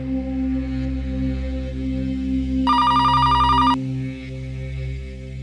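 Mobile phone ringtone sounds for about a second, bright and electronic, cutting through a steady droning music bed in a dramatic indoor scene before the music carries on alone.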